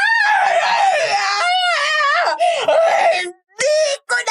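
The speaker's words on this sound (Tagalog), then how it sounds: "Napaangat ang ulo ni Aling Nena habang sumisigaw siya sa matinding sakit" In a Filipino horror audio drama, a woman wails and screams in agony, drawn-out rising and falling cries that break into sobbing bursts, then stop abruptly with short gasping outbursts after a brief silence.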